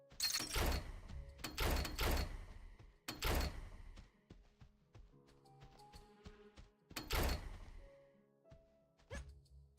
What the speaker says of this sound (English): It just makes like the door closing sound.